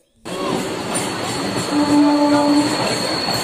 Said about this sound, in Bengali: ট্রেনের ওয়েট করছি, ট্রেন এক্ষুনি ঢুকবে।